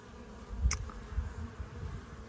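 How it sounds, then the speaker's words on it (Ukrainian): Young honey bees on an orientation flight at an apiary buzz in a steady, close swarm, a low droning hum that swells briefly and then settles back without any talking. "Обліт молодої бджоли"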